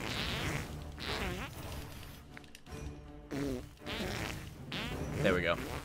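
Video game fart noises in South Park: The Fractured but Whole, several buzzy, wavering blasts of varying pitch that come in bursts over a few seconds, loud and close, with short gaps between them.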